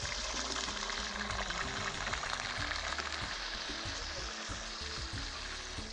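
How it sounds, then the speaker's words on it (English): Capers fry in a pan with a dense, steady sizzle and crackle, close and continuous throughout, no speech over it. "we're gonna fry some capers, which will be really great. They get nice and crispy."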